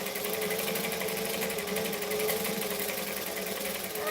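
A sewing machine stitching at a rapid, even rhythm, its continuous mechanical whirring and clatter close and steady without pause.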